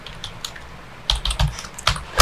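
Fingers type on a computer keyboard while entering a Linux shell script: a few soft keystrokes, then a quicker cluster of louder, close-up clicks.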